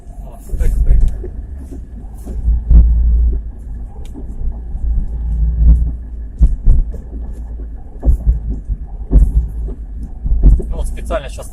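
Transmission knocking in a 2017 Chevrolet Niva on the move: dull, low thuds and clunks recur irregularly over a constant rumbling drive noise inside the cabin, with someone talking throughout.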